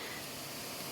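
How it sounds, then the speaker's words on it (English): Tomato sauce splattering and hissing in a hot pan with frying rice and onions, a steady, close sizzle with no pauses. "it is gonna splatter and make a lot of noise"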